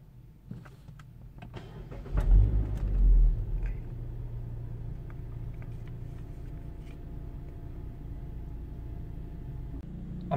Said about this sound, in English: I'm just going to let the car idle for 5 minutes